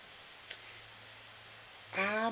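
One crisp, quiet computer mouse click during an Excel spreadsheet session, standing alone over a faint steady hum before a brief rustle.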